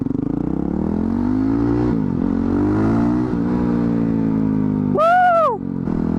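Supermoto motorcycle engine revving hard while riding, a loud, steady rising and falling drone close by with a sharp upward rev swell near the end, no voices.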